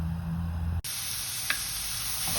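Chopped medium onion dropped into a hot pan for a whole-food plant-based meal, a sudden burst of loud, close sizzling that keeps hissing steadily, with a small clatter partway through.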